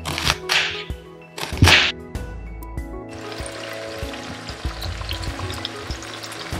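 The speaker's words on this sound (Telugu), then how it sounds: "So onion tomato curry leaves పోపు గింజలు ఇవన్నీ ఆయిల్ వేసి కొంచెం ఫ్రై అవ్వాలి." Onion, tomato, curry leaves and seeds fry in hot oil, opening with two loud bursts as ingredients hit the pan, then settling into a continuous close sizzle.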